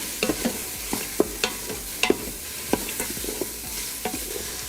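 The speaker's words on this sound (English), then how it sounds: "I'm just gonna add a little bit of salt and pepper in here. And then mix it up a little bit." Vegetables frying in an Instant Pot are stirred with a utensil, giving irregular scraping clacks and knocks of varying loudness over a soft, steady sizzle, with no voices.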